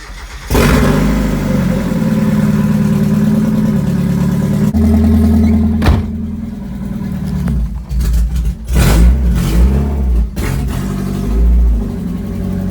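A Mazda Miata engine cranks and catches, then idles loudly and revs up and down with uneven throttle, close and steady throughout.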